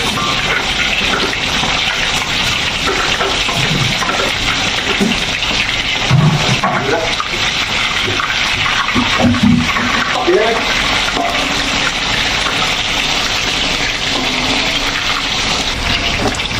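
Tamarind water poured into spice paste frying in oil for a three-flavour tilapia dish, a loud continuous sizzling and watery gush lasting throughout with faint stirring.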